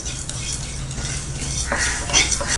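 A kadai clatters as it is set down on a stove for making garlic pickle, with a brief metallic scrape and clink over a background hiss.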